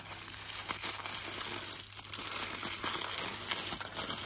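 Paper crinkles and rustles close by as a mystery box item is unwrapped, with several sharper crackles among the steady handling noise and no talk.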